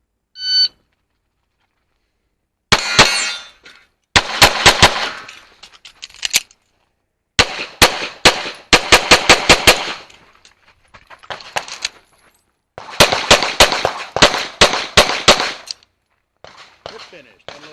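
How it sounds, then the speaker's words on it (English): A pistol fires at a 2025 IDPA National Championship shooting stage: a short start beep, then loud, close shots in rapid strings separated by brief pauses, the sharp reports echoing slightly. "So you'll see me put 6 rounds into one of these targets."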